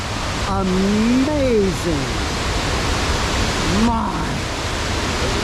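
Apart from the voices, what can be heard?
roar of a waterfall, Cummins Falls or Burgess Falls, Tennessee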